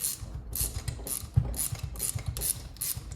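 Pivot-head ratchet with a 16mm socket working on a Yamaha TTR 125 motorcycle build: quick, close bursts of clicking pawl strokes repeat in a steady rhythm, alone and fairly quiet.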